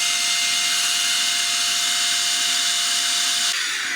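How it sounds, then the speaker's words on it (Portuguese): An electric air blower running at full power, a loud steady whooshing roar with a constant whine, then a slight change near the end. "Vou ligar aqui o meu soprador de ar, também do AliExpress"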